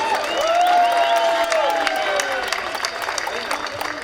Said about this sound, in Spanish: Un fuerte aplauso para Danny Torres, por favor.